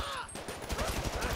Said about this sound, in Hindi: सारे लोगों ने मेरे ऊपर गोली चलाना शुरू कर दिया गाइस